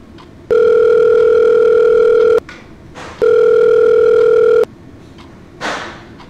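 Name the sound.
telephone ringing while placing a call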